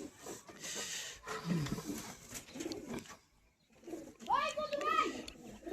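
Domestic pigeons, including a male, coo nearby in soft low bursts, mixed in with people talking close by.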